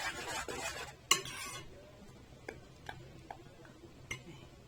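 Spoon stirring molokhia in a pot of barely boiling water, a few soft scraping strokes followed by sparse light clinks and taps against the pot, faint and close.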